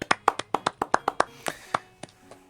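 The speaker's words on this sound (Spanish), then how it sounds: "Un aplauso para la Titi" A small group claps for a podcast guest, about a dozen sharp claps in a quick, uneven rhythm that slows and fades toward the end, close and fairly soft.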